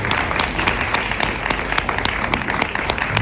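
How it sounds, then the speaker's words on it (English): Audience applause at a memorial event for Dr. Martin Luther King Jr., a dense, steady patter of many hands clapping at close range throughout. "Why don't you give a round of applause for them who are assembled in our midst today?"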